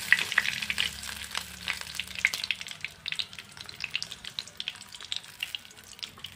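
A fish head fries in hot oil, giving a close, continuous crackling sizzle with dense spitting pops throughout and no voices.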